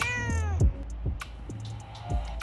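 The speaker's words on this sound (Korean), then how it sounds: "저녁 산책 중에 길냥이를 만났다." A stray cat meows repeatedly up close on an evening walk, several short plaintive cries in a row with brief pauses between them.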